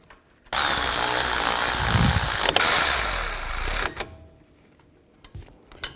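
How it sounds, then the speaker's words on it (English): Power tool driving in brake caliper bolts on a 2015-20 Hyundai Tucson, a loud continuous whirring burst of about three seconds with a sharp click midway, ending abruptly, followed by faint handling noises. "Now install the caliper bolts."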